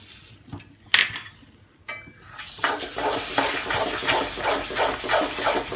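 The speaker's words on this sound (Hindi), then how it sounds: "मिक्स कर लेंगे अच्छे से।" Besan halwa batter being stirred with an added egg in a pan, a spoon scraping and clinking against the metal in a steady, close rhythm under a soft sizzle after a couple of sharp early clanks.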